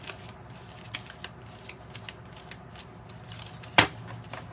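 Hexagon-shaped Alchemy deck tarot cards are shuffled by hand in a series of soft riffling rustles and light taps, ending in one sharp snap near the finish.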